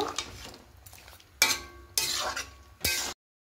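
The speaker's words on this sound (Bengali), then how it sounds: "একটু চিনি দিয়ে দেবো, যেহেতু শুক্তো একটু মিষ্টি মিষ্টি হবে। চিনিটা দিয়ে খুব ভালো করে মিশিয়ে নেব।" Sugar stirred into fish shukto in a pan: a few distinct metallic clinks and scrapes of a spoon against the pan, spaced about a second apart over a faint simmer, then silence.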